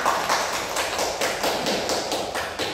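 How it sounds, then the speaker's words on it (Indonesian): A classroom group claps together for a student returning to her seat during a microteaching lesson, a dense steady patter of many hands with slight rhythmic pulses, fairly loud and close, with no talking over it. "Oke, beri aplaus untuk Mbak Astrid semuanya."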